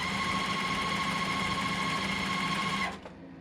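A sewing machine runs steadily, stitching a sew-and-flip corner on a quilt block, with a loud continuous motor hum and needle whir that stops abruptly near the end.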